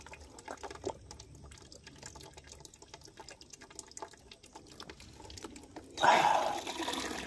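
A roadside water tap is opened to fill up. Faint drips are followed by a sudden, louder rush of running water near the end.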